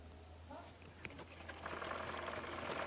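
Domestic sewing machine stitching a kameez neckline, starting up partway through as a faint, steady mechanical whir after a few soft handling noises.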